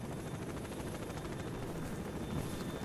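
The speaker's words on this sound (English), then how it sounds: "The helicopter's way too loud." Helicopter flying overhead in the video game S.T.A.L.K.E.R., a steady loud rotor drone with dense broadband whir filling the whole stretch without pause.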